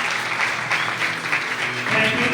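Audience applause at a Hindi-language Christian gathering, a steady, dense wash of clapping lasting the whole stretch, fairly loud and swelling slightly near the end.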